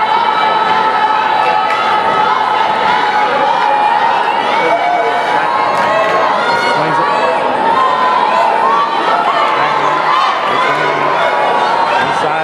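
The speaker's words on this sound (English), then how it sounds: "we got a nice crowd here" A packed crowd at a high school girls' basketball semifinal cheers and shouts, a dense, loud, continuous roar of voices filling the gym.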